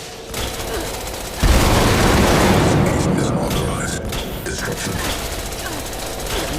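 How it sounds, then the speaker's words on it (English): Blast rifle shots from the Fallout 76 EN06 Guardian weapon test erupt in a loud, dense burst that stays sustained for several seconds, with no speech over it. "We'll try the blast rifle"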